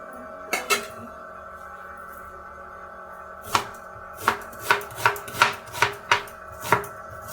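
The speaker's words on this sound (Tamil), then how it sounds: "இந்த நீட்டில் வெட்டிக்கலாம்." A knife chops through peeled tomatoes on a board: two quick knocks, a pause, then a steady run of about eight crisp, close strikes, with no talking.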